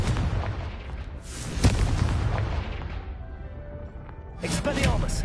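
A Confringo spell blast in Hogwarts Legacy booms out in a dense, rumbling roar with a sharp thump partway through, then trails off before another burst, all under a talking voice.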